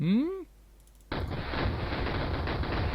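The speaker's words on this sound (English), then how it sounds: "Full battery fire." Artillery battery in the Civil War video game Battleground: Antietam: after a brief rising tone and a short pause, a sudden loud volley of cannon fire erupts and rolls on as a dense rumbling roar.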